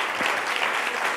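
An audience claps during a talk on the cognitive benefits of physical activity. The dense, steady applause is fairly loud and close, with no voices over it, though the burst is brief.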